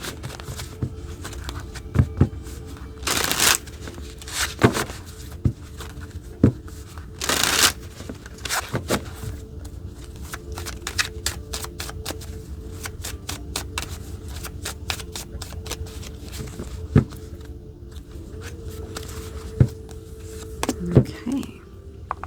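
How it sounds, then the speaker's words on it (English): A deck of tarot cards is shuffled by hand, giving repeated close riffles, soft flicks and slaps of card stock spread across a long stretch, with a few louder bursts. "I'm going to get a second card from another deck to get a deeper understanding."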